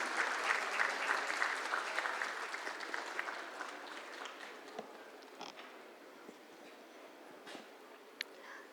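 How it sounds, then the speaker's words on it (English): A full hall audience at a founders' event gives warm applause that starts strong and gradually thins to scattered claps and a few sharp taps. "We require a big round of applause for all of them."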